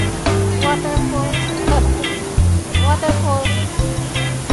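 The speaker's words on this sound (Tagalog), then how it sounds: "Artificial lang po yung waterfall." Artificial waterfall at a heritage site gives a steady, broad rush of falling water throughout, with voices and music-like tones layered over it.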